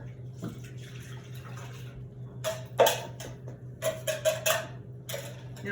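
Water poured into a heavy 9-quart Le Creuset pot, splashing in several bursts over a steady low kitchen hum, loudest in a few sharp pulses near the middle and end.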